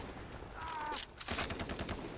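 Gunfire in Far Cry 3, a fast burst of shots rattling in the second half after a brief lull, moderately faint against a busy game background.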